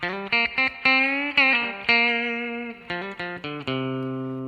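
A short electric guitar lick with clipped, punchy notes and a few sustained ones, played alone with a slightly overdriven tone.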